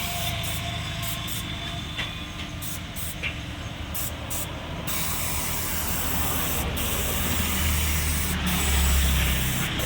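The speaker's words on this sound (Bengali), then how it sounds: "ছোটো সাইডের পিছন সাইডে ঘষা চলছে এখনও।" Teak wood being rubbed down by hand on a box bed in a woodworking shop, a steady, rough, hissing friction noise that swells slightly toward the end, with no voices.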